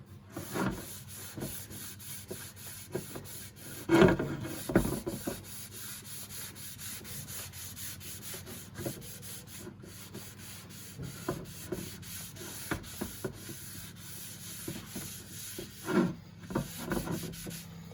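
A cloth rubs stain and finish by hand onto the veneered shell of a Rogers wooden drum, producing steady close soft scrubbing strokes with occasional louder swipes and no talking.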